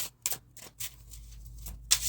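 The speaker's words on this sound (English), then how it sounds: "Let me give these a quick shuffle." Tarot cards are shuffled in a few quick, soft riffling bursts with short pauses between, close and fairly quiet.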